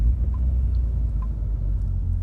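A Peugeot 205 GTI engine idling unusually high, a steady, close, low rumble holding an even level throughout with no talk.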